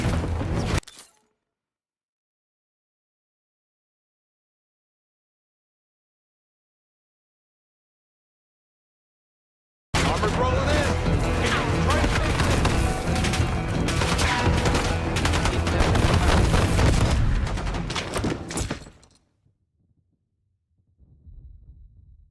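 Explosive airstrike and gunfire in the video game Call of Duty: Black Ops 6, a brief loud burst at the start, then silence, then about nine seconds of dense, continuous blasts and shots that cut off abruptly.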